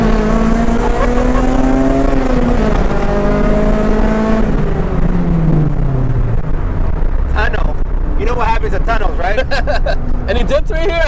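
A 2000 Honda Civic EK engine runs loud and close, its pitch falling off, then blipping in quick revs during a downshift while people talk over it.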